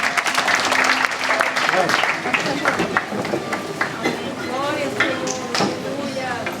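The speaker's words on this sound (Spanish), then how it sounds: "Vamos a aplaudir al Señor." A church congregation applauding during a sermon, a loud burst of clapping that tapers into scattered claps, with voices and shouts rising over it toward the end.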